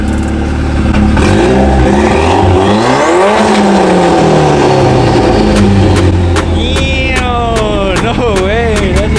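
A Subaru engine revs hard in loud, rising and falling bursts, climbing to a peak and dropping back, then revving again in quicker blips near the end, close up and dominant throughout.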